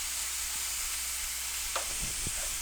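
Pork fillet portions searing in a frying pan, a constant loud hissing sizzle with a couple of brief knocks as the meat is pressed down.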